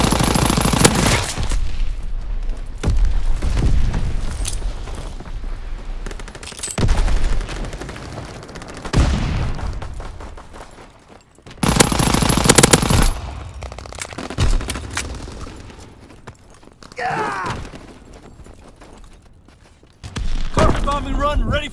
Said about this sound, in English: Fighter pilot ready for strafing run.